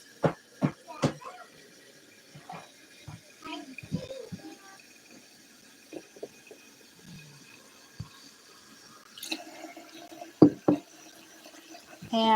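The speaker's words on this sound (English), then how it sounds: "Put new and fresh water in here." Fresh tap water poured into a container holding a rooted arrowhead plant cutting, with sparse splashes and trickles coming in short bursts between quiet gaps, close by and moderately loud.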